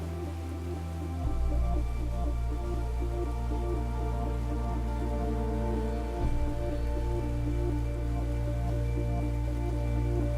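Artificial indoor rain falls steadily in the Rain Room installation at MoMA, a dense, even hiss of drops hitting the floor beneath a low constant hum, continuous throughout with a slight shift partway through.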